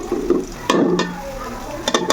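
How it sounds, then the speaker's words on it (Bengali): Spices with turmeric stirred and fried in a pan while puffed rice is being prepared, a soft sizzle under repeated scraping strokes of a spatula, close and fairly loud. "এখন আমি এটা আরেকবার একটু ভালো করে ভেজে নেব যেহেতু হলুদ দিয়েছি"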